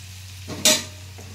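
Thinly cut pieces frying in hot oil are stirred once, giving a single short, bright scraping sizzle that stands out against a steady low background hum.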